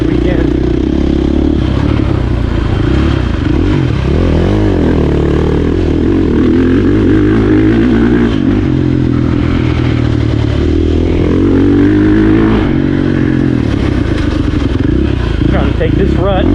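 A dirt bike engine being ridden and shifted with a quick shifter roars loud and close for the whole stretch, its pitch rising and dipping through rapid gear changes, with rumbling wind buffeting underneath.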